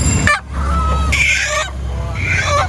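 Live local chickens at a busy Magh Bihu fish and produce market in Uzan Bazar, loud close squawks and honking clucks in a few bursts over market background.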